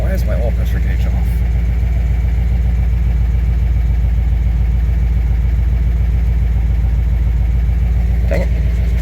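A V8 engine swapped into a Ford Ranger idles steadily after a fresh install, a close, continuous low rumble with an even pulsing beat throughout, with a brief faint voice near the end.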